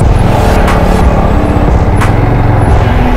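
Road traffic crawls in a heavy jam near Sevoke on the stretch from the railway gate, with loud rumbling car, truck and bus engines nearby and a few sharp hissing air-brake bursts scattered throughout.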